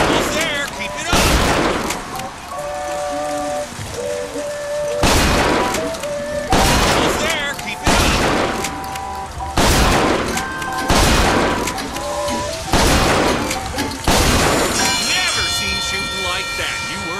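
Gunfire blasting targets in Bioshock Infinite, a series of about nine sharp loud shots spaced every second or two, each with a ringing tail over game music and ambience.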